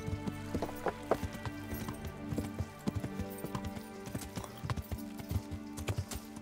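Rhythmic clip-clop of a ridden horse's hooves from the medieval video game Kingdom Come: Deliverance, a steady quiet pattern of hoof strikes on firm ground with no talk.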